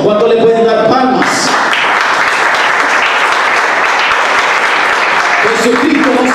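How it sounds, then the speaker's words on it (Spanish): An audience at a church sermon breaks into loud sustained applause and clapping, rising suddenly and holding steady, with a voice heard briefly before and after. "¿Cuánto le pueden dar palmas?"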